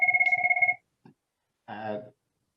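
A mobile phone rings during a talk, a close, bright electronic trill of rapid pulses lasting under a second, followed by a brief pause and then a short bit of speech.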